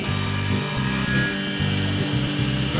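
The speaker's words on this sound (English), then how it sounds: "Now I'm just cutting dados for that 1/2 inch bottom to go in" Power saw cutting dados in poplar for a bread box, a loud steady sawing drone with brief dips as the cut pauses, close and with no voices.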